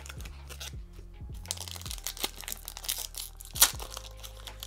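Crinkly foil of a Pokémon card booster pack being torn and crumpled up close, with sharp rips and crackling over a low background hum.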